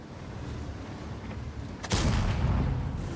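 A tank cannon shot in a tank combat game, a single sudden loud boom midway after quiet engine rumble, followed by a sustained rolling roar and crackle that lingers to the end.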